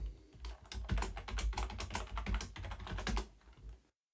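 A Linux command typed into a terminal on a computer keyboard: a dense, steady run of fast, loud key clicks close to the mic that lasts about four seconds and then cuts off, with no voice.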